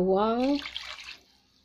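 Two cups of water are poured into a pot of chicken adobo on the stove. The pour comes as a brief splashing gush that follows a voice at the start and fades out within about a second.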